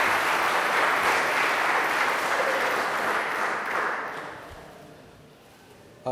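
An audience applauds a speaker being introduced at a 2011 talk, with broad, loud clapping at the start that gradually thins and fades toward the end, and no voices over it.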